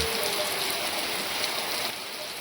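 Steady rain pours down in a dense, even hiss with no pauses, close and fairly loud, with no voices.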